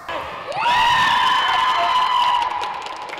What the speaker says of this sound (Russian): Болельщики празднуют громко и продолжительно